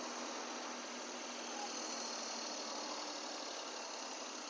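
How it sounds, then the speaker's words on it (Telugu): A 2011 Maruti Alto petrol car's engine idles with a faint, smooth, steady hum and no change in pitch or level. "ఇంజన్ కూడా చూడండి ఎంతనే స్టార్ట్ అయింది."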